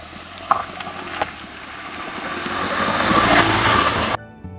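A car speeds past a roadside camera on a rough mountain road in Ladakh, its engine swelling as it draws near and peaking loudly close by before the sound cuts off abruptly.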